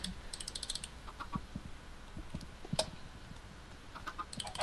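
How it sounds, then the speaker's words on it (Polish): Chickens cluck in the Minecraft video game, short soft clucks scattered across the stretch amid light clicking, fairly quiet with no talk over them. "Ile kurczaków! Chicken party."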